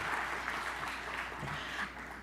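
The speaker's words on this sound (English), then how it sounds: "Can we get a big round of applause for our governors?" Quiet, brief applause from the audience at a global summit's closing plenary session, an even patter of hands that eases down toward the end.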